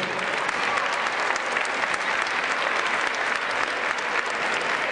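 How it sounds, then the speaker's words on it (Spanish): Loud, dense applause from a festival audience cheering a group of children, a steady unbroken wash of many hands clapping throughout, with no talk over it. "Fuerte aplauso para ellos."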